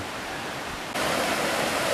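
Red Creek flows through the Dolly Sods Wilderness in a steady broadband rush of water, close and fairly loud, growing brighter and louder midway with no voices.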